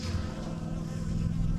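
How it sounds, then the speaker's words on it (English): Close, steady buzzing of a bee outdoors on a sunny day at a Texas cabin, a droning hum that holds without a break, loud and near, with no talk. "There's a bee."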